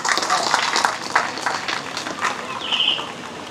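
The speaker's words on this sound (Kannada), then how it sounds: "ಅವಳಿಗೆ ಎಲ್ಲರೂ ಸೇರಿ ಚಪ್ಪಾಳೆ ಮೂಲಕ ಅಭಿನಂದನೆ ಸಲ್ಲಿಸೋಣ" Audience applause at an SSK community temple-spire and gateway inauguration ceremony in Harihar, congratulating a girl who earned the state first rank; steady broadband clapping fills the moment, close and sustained, with scattered sharper claps throughout.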